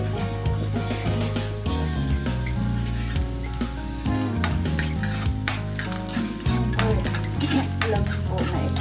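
Garlic cloves frying in cooking oil in a pan, with a steady loud sizzle and repeated stirring scrapes and clinks of a utensil against the pan throughout.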